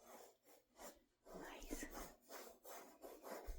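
Close, faint scratchy rubbing of a paintbrush filling in pink tulips comes in up-and-down strokes with short pauses between them. A soft voice speaks at times.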